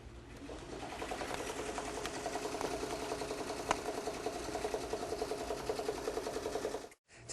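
A cap-embroidery machine stitches steadily on a hat held in a cap frame, giving a continuous close mechanical whir with fast rhythmic needle chatter for about seven seconds before stopping abruptly.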